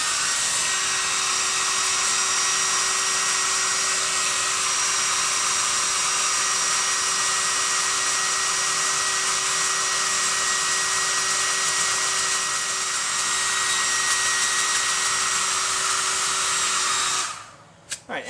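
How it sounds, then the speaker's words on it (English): A hair dryer blows into a bowl to winnow roasted cocoa nibs, a loud, steady whine that runs continuously, then cuts off abruptly near the end with a brief rattle. "blow the hairdryer into the bowl and toss it gently so that we can separate out the"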